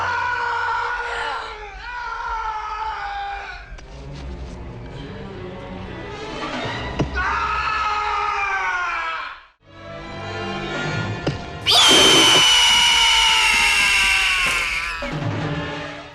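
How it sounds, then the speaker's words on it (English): A film warlock screams in agony, drawn-out harsh howls that rise and fall over about sixteen seconds, broken by a short silence before a shrill, louder outburst, with no other voices. "causing the warlock to scream in agony"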